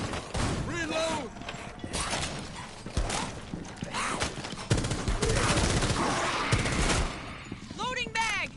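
Weapon reload and gunfire in Rainbow Six Siege, with mechanical clicks and ratcheting mixed into bursts of shots and a voice talking at times.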